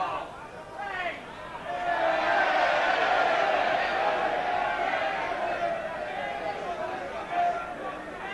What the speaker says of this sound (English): A good atmosphere now, the crowd really enjoying this game.